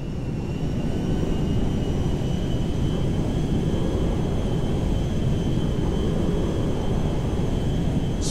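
A cargo jet cruising in flight in GTA 5, a steady, loud, broad engine roar with a faint high whine, droning continuously and unchanging throughout without talk.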